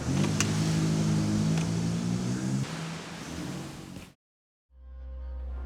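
A car engine roars close by with a strong low hum, then drops in tone. After a sudden cut to silence, a deep low rumble follows.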